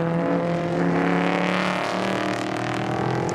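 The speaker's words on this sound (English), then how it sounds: "Sixth spot, crossing the yard of bricks, 44A, Alan Good in a Triumph TR4A." A Triumph TR4A race car crosses the yard of bricks at Indianapolis during a vintage race, its engine a loud, sustained drone with steady harmonic tones that shift slightly in pitch as it goes by.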